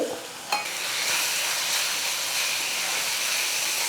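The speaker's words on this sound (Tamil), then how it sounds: "இது எல்லாம் எண்ணெயில் வந்து ஒரு நிமிஷம் வதங்கட்டும்" Spices sizzle and hiss in hot oil, a steady close crackling fry after a brief clatter at the start.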